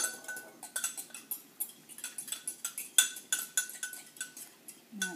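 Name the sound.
stirring yeast in a bowl with a fork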